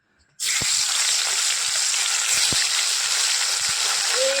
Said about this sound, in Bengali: এখানে মাছে হলুদ নুন মাখিয়ে নিয়েছি, এখানে তেল গরম হয়ে গেছে, চলো মাছগুলো দিয়ে দিই